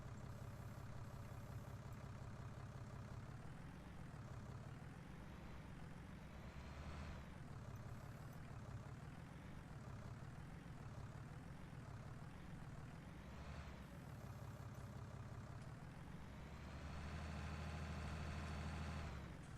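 A farm tractor carrying a bale on a bale spike runs with a steady, low engine drone that swells briefly now and then and grows louder near the end, heard alone without talk.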